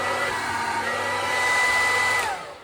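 A hair dryer blows air steadily with a whirring hum, the tone shifting slightly as a hand partly covers the outlet, close and loud before easing off at the end.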